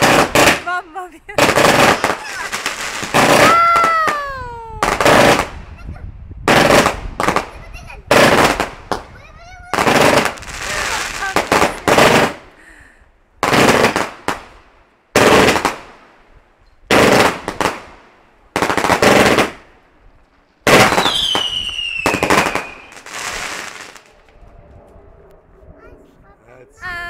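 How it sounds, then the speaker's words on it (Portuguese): Bonfire night fireworks explode in a long series of loud, close bangs and crackling bursts, some with rising whistles, separated by short pauses, with people talking and exclaiming between blasts. "Essa foi uma bomba de explosão."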